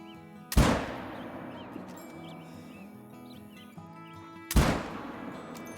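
Two loud rifle shots about four seconds apart ring out in a hunting video game while the player fires at a pronghorn. Each crack decays into a short echo, and faint bird chirps sit in the background between them.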